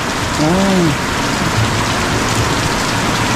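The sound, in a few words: rain falling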